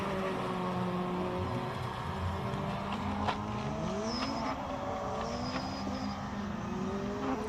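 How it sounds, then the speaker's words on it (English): A race car's 2-litre four-cylinder JS53 Evo 2 engine drones loudly at a hillclimb event, its pitch climbing and dropping through gear changes as it passes, with a faint tire squeal. "the JS53 Evo 2 engine, 2-litre 4-cylinder. Beautiful looking car, stunning sound as well."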